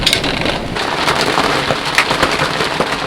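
Dense, steady patter of massive hailstones drumming on a narrowboat roof overhead during a storm, with sharper clattering impacts scattered through a loud, constant roar.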